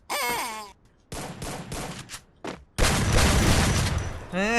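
Bursts of shotgun fire in the Free Fire video game, several loud blasts in quick succession with a longer sustained volley near the end, bracketed by brief vocal exclamations from a player.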